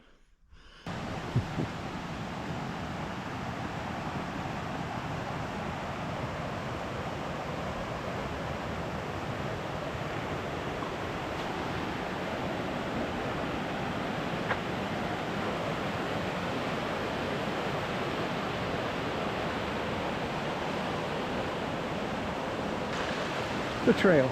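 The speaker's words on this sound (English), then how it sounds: "The trail is a torrent, a raging river." Water rushes down a flooded hiking trail on the West Highland Way in Scotland, a constant broad roar close by with little variation, steady for the whole stretch.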